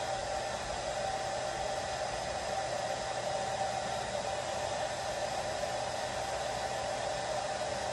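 Constant, even whoosh of a Kiss hair dryer on the warm setting, blowing steadily at close range, with no pauses or change in speed.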